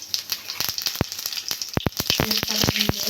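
Whole cumin seeds and dried red chillies crackle and sizzle in hot mustard oil in a kadai, with close, loud sharp pops over a steady hiss that thickens toward the end.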